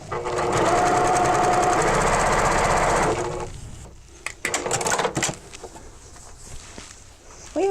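A sewing machine runs loud and steady for about three seconds while stitching a quilt sleeve seam at a quarter inch, then stops, followed by scattered clicks, handling noises and a brief restart at the end.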